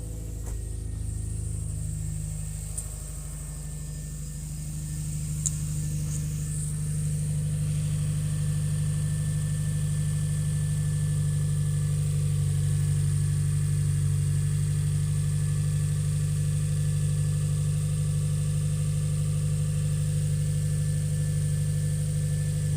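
A 2019 Subaru STI with a newly installed equal-length header and up-pipe idles steadily, holding a deep, even drone close to the microphone after its first start. No one speaks over it.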